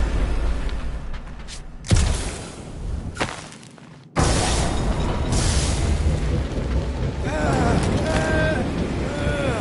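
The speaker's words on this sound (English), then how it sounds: "Your feeble body cannot overpower such tremendous gusts!" Powerful wind gusts from huge turbines in the Guardians of the Galaxy video game roar in loud, broad surges, with a sharp blast near two seconds, a brief drop, then a sustained heavy rush.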